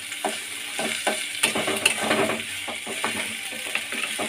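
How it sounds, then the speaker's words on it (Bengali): Bay leaf, spices and onion sizzle in hot oil in a pan while a spoon scrapes and stirs in repeated strokes, close and steady, with no one talking. "মশলাটা একটু ভাজা হয়ে যাবে।"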